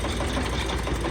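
A YTO 350 P mini tractor, a 35-horsepower diesel, runs a dynamo that powers a borewell turbine pump in Pakistan. The engine gives a loud, steady, rapid chugging drone, close by, with no talk.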